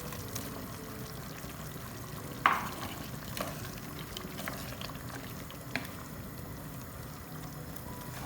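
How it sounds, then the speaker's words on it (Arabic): Chickpeas tipped into cauliflower frying in a pan, with a brief clatter as they land over a steady, soft sizzle and bubbling that continues throughout. "درك نزيد الحمص"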